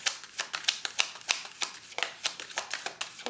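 Tarot cards being shuffled and drawn, a close, quick run of crisp papery riffles and snaps in an uneven rhythm, with no talk over it.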